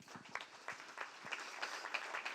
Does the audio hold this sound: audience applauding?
yes